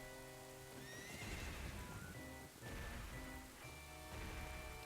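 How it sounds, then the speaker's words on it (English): Horse whinnies and clip-clopping hooves over steady rainfall during a horseback ride in the rain in the Nintendo 64 game Ocarina of Time, with game music, loud and continuous. "you get to see the N64's great effects with the rain and this horse ride"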